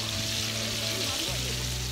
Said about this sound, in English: We frying fish today.